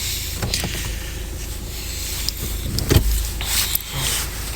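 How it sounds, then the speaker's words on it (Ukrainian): A motorized panoramic roof shade closes inside a Peugeot car, a steady faint electric whir with small clicks and rustles, ending with a soft thud as it stops. "До речі, панорамка в нас закривається шторкою."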